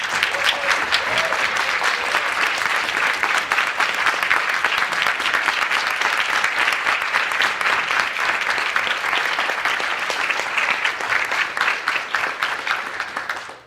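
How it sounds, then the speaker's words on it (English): Sustained audience applause fills the room at the closing of an environmental justice conference, steady dense clapping from a large crowd lasting the whole span with no speech over it. "if we could just give them one more round of applause"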